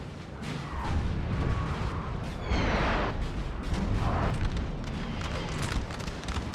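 Artillery guns firing in a Napoleonic-era battle in Napoleon: Total War, set at the 1812 Battle of Swolna: dense, continuous rumbling booms and crackling volleys rolling through the whole stretch, loud and layered, with no voices.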